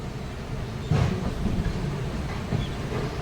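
A train at Vadodara Junction railway station rolls past as a continuous low rumble and hiss, with a couple of brief clacks from the wheels.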